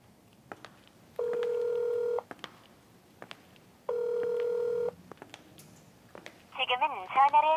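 Two long, steady ringback tones of an unanswered telephone call, each lasting about a second, separated by a pause and clear and close, followed by a brief warbling electronic tone.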